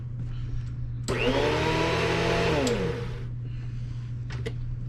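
A Rainbow E2 power nozzle (model PN-12) vacuum motor whirs up loudly for about two seconds, its pitch swelling and then dropping away as it shuts off over a steady low hum.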